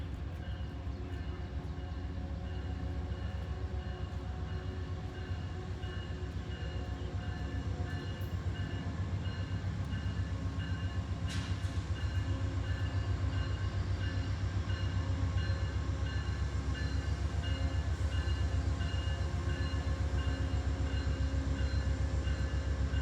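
CSX freight train passing on the line toward Newport News, a continuous rumbling roll of railcars that builds slightly louder toward the end, with a brief high squeal partway through.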